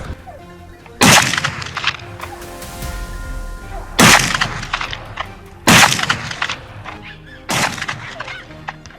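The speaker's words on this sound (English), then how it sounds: "Two precise gunshots rang out, and the wild boar had no chance of escape" Four sharp, loud gunshots burst out at spaced intervals during a wild boar hunt in dense trees, each crack ringing and decaying over a low outdoor background.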